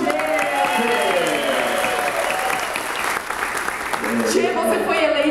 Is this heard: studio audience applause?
yes